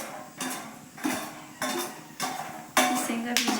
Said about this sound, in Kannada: ಇದನ್ನ ಶೇಂಗಾ ಬೀಜ ಎಣ್ಣೆಯಲ್ಲಿ ಚೆನ್ನಾಗಿ ಹುರ್ಕೋಬೇಕು